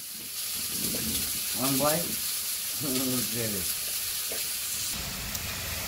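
Potatoes and eggplant fry in spices in a village kitchen, a steady broadband sizzle running the whole clip, with voices talking over it in short bursts.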